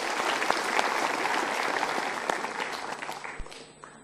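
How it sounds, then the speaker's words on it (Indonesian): Steady applause from a seated seminar audience at a motivational talk, with loud, even clapping throughout that tapers off in the final second. "kita beri tepuk tangan"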